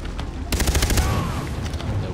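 Gunfire in the shooter Far Cry 3, a rapid burst of repeated sharp shots in quick succession after a faint earlier pop, loud and close, ending in a fading tail.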